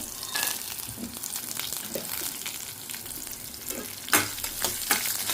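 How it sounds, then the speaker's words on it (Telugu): Peanuts fry in hot oil for a tempering for semiya pulihora, a soft steady sizzle broken by occasional louder bursts as they are stirred, close up and without talk. "ఈ పల్లీలు కూడా కొంచెం వేగాలన్నమాట"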